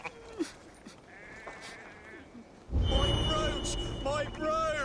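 Sheep in the video game Assassin's Creed Valhalla bleat in a loud, close group of overlapping calls that swell in after a quieter stretch of faint bleats and background game sound.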